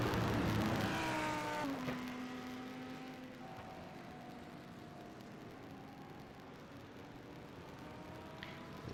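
GT race cars circle Watkins Glen in the iRacing sim game, their engines whining and dropping in pitch as they slow and warm their tyres, a steady, fairly faint mechanical drone with several cars overlapping.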